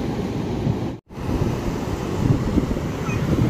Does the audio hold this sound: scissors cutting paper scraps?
no